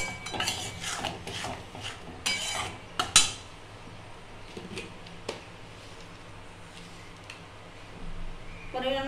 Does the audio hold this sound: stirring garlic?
yes